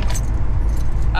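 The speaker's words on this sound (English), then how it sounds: "So luckily, I've got my keys to the compound." Keys to a locked vehicle compound jangle loudly and close up in one short metallic rattle, with a faint low rumble of a vehicle behind it.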